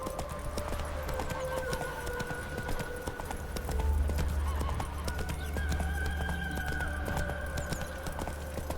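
Horse hooves clip-clopping at a steady trot in the video game The Witcher 3: Wild Hunt, a continuous, evenly paced beat with game ambience and occasional voices.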